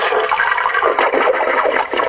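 A novelty toilet-bank flush from a baseball dugout toy, a steady rushing water swirl lasting about two seconds, loud and close with no talk.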